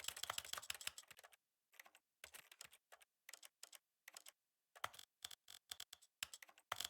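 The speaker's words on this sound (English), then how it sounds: "I'm just clicking buttons." Rapid bursts of computer clicking and key presses in irregular clusters separated by brief silences, close and fairly quiet, with no voices.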